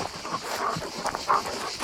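Dog outdoors on a large yard giving soft whimpers and short vocal sounds amid rustling and ambient noise, fairly close but not loud.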